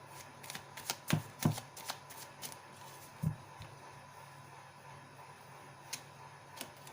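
Tarot cards shuffled and drawn at a quiet table: a few crisp riffling flicks and soft slaps of cards being laid down, close and sparse against a low background hum, with long quiet gaps between.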